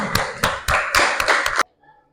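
A group of primary-age students clap together in a classroom during a practice teaching session, giving about six loud, sharp, fairly regular claps over roughly a second and a half before stopping abruptly.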